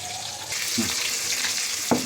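Fish frying in hot oil for a mustard hilsa dish, a steady close sizzle with a couple of brief stirring scrapes and no talk.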